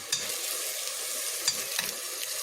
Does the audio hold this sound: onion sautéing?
yes